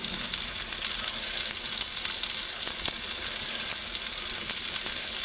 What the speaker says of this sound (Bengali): গাইস দেখো পেঁয়াজ দিয়ে দিচ্ছি এর মধ্যে।